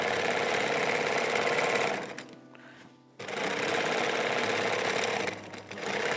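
A sewing machine stitching tote bag fabric gives a loud, steady mechanical whirr, stops briefly, then starts again at full speed.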